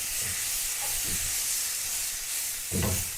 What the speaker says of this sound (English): I'm going to add our beef. Saute for 3 to 4 minutes.